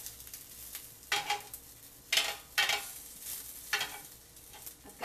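Romaine lettuce sizzling on a hot grill as it is turned, with several short bursts of hissing and scraping against a quieter steady sizzle, close by and without talk.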